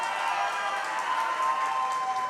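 Audience applause at a live video game showcase reaction event, a steady dense clapping from a crowd, moderately distant and even throughout.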